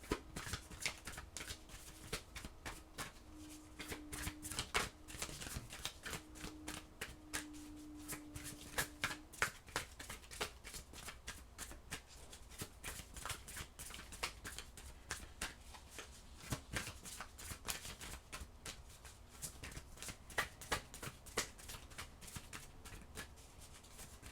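Oracle cards being shuffled during a Sagittarius tarot-style reading, a steady run of soft, rapid riffling and slapping card sounds lasting the whole stretch, close and fairly quiet, with no talking.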